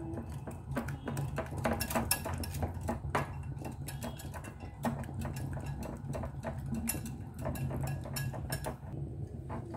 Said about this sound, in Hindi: इसको अच्छी तरीके से फेंटते हैं कि दोनों चीजें एक जान हो जाए।